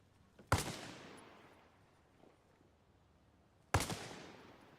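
Two distant gunshots in the video game Arma Reforger, each a sharp crack followed by a long rolling echo that fades over a few seconds, about three seconds apart, with no talk.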